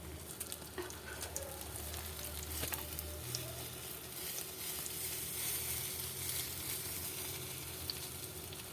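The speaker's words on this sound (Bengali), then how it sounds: "আমার ভাজা হয়ে গেছে ডিমের অমলেটটা" An egg omelette frying in oil in a pan gives a steady, close sizzle with occasional crackles and light scraping from stirring, continuous and unbroken by talk.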